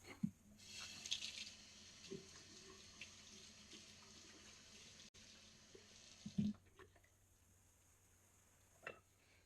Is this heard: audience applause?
no